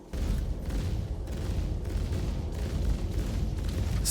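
In Star Citizen, ship weapons fire at a Hammerhead as a rapid, continuous barrage of booming, rumbling blasts that pulse every half second or so, loud and dense.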